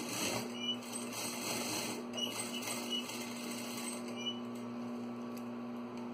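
A sewing machine stitches across the waistband of a pair of jeans with a steady, soft mechanical whir and light rhythmic ticking. It is faint and close, with no talking.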